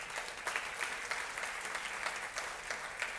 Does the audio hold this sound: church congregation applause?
yes